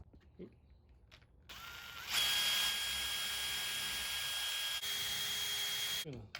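A small 1/16 inch bit drills into a wooden trout carving, a steady high whirring drill tone starting after a brief pause and running loud and continuous for about four seconds before cutting off.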